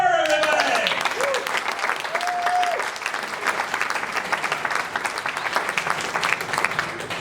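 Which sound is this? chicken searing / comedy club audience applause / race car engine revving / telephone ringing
comedy club audience applause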